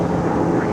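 A plane drones overhead above a tennis final, a steady low rumbling hum filling the short moment.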